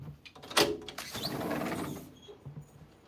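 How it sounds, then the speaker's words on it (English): A door is opened indoors during a live art session, giving a sharp click of the latch followed by a soft sliding, shuffling sweep of the door moving, fairly close, with no talk over it. "Let me open up a door"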